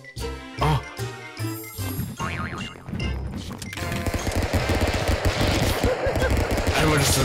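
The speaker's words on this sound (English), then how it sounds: "Everyone just immediately starts shooting." Rapid video-game gunfire from a Stick Fight match, a chaotic burst of overlapping shots and crashes that builds loud and dense in the second half, with musical jingles and brief voices early on.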